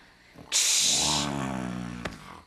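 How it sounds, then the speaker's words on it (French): A single loud, raspy snore rumbles in close by, with a harsh breathy onset that fades out, followed by a brief click. "Tu ronfles."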